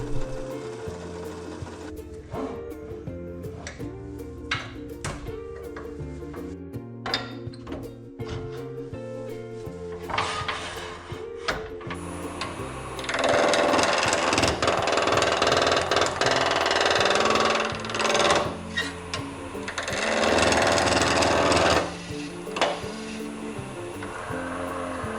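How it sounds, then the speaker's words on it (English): A power sander whirs against a wooden coffee scoop blank in loud sustained bursts, squaring its end, alongside the steady whine and intermittent grinding of a drill press boring a hole, with brief pauses between passes. "I'm just going to use a sander to square the end, and my drill press to drill a hole"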